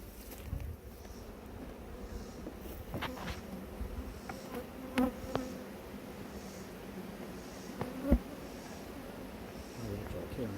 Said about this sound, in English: They might have robber bees.